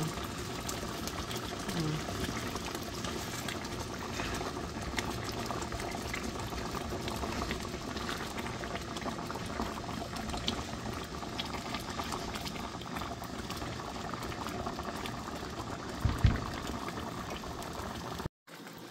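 Creamy beef tongue broth simmers in a pot, giving a steady, continuous bubbling that stays fairly even throughout, with a brief louder knock near the end before it cuts off.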